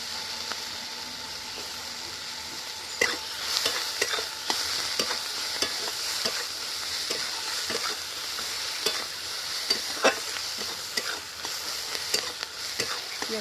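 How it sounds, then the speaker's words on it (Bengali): Chopped onions hiss and sizzle in hot oil in a wok over high heat with whole cumin and garam masala, a steady frying bed punctuated by repeated scraping stirs of a spatula. "পেঁয়াজটা একটু লাল লাল করে ভেজে নেব"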